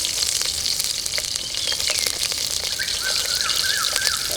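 Green chillies and cumin seeds fry in hot oil for a Telangana-style chicken curry, making a loud, continuous close hiss and crackle with a few faint high chirps in the background.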